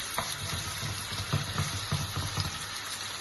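Chicken frying in oil over a high flame, giving a steady, close sizzle with soft bubbling and faint stirring clicks throughout.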